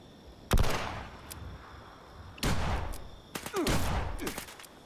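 Gunfire in the Fallout 76 video game comes in three loud bursts of rapid automatic shots with echoing tails, heard close and not covered by speech.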